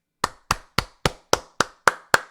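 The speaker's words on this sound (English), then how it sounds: "Joe, are you clapping going to the mound after that man just lost it?" Joe Girardi claps his hands while walking to the pitcher's mound during a Phillies–Blue Jays baseball game, eight sharp, evenly spaced claps, close and distinct with no talk over them.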